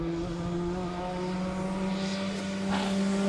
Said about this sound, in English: you're watching the Zaxpeed Mark II turbocharged little Escort up the hill